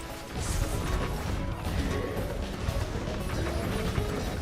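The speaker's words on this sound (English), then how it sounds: "Stop smashing the frozen pears. That's not allowed." Zombies smash frozen pear plants in Plants vs. Zombies 2, a dense continuous clatter of crashing, thwacking game effects, loud and busy throughout.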